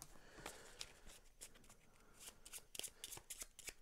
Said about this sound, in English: as we shuffle all the cards back into the deck